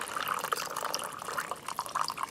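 Water trickles and flows over soil in an erosion demonstration, a soft, steady liquid babble with small drips, faint and close, with no talking.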